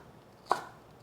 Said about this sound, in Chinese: 换一个方向，切成小丁。